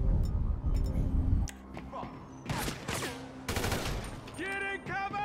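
Gunfire in Grand Theft Auto 5 comes as scattered bursts of shots at mixed distances under steady background noise, while voices talk and shout throughout.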